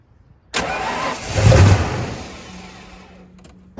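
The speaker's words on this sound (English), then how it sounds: "it will hit off of starting fluid" A 1995 Ford Bronco, parked for years, cranks and tries to start: a loud starter churn that swells and briefly catches, then fades into a rough low drone without firing cleanly.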